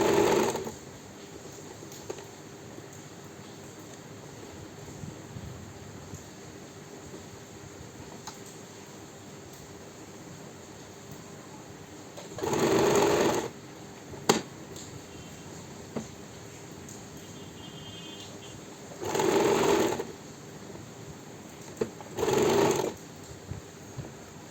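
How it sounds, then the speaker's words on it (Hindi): A sewing machine stitches a trouser in three short, loud bursts of rapid mechanical whirring, separated by quiet pauses with faint handling noise. "तो देखिए मैं अब किस तरह से ट्राउज़र की स्टिचिंग कर रही हूँ।"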